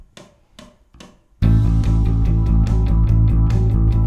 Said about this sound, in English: This is just kind of your typical rock,